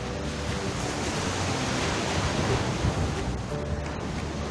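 Ocean surf rolls and breaks on a beach in a steady, loud wash of noise with some wind rumble, no talk over it.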